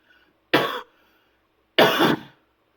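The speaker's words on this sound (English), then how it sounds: "Excuse me for coughing." Two short, sharp coughs from one person, about a second apart, close and loud against near silence.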